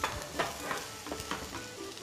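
Sour apple pieces fry in a hot pan and are stirred, giving a steady close sizzle broken by several distinct scraping strokes of the utensil at an uneven rhythm.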